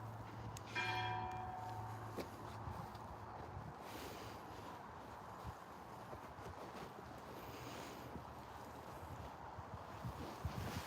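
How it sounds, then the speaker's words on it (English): A church bell rings faintly and far off near Fenwick, with a few tones at the start fading under steady outdoor wind noise. "it's a bell ringing"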